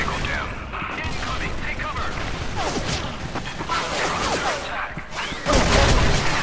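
A K2 assault rifle fires in Soldier Front 2 in several loud, rapid bursts mixed with other gunfire and game noise, ending in a heavy blast, while a voice talks over part of it.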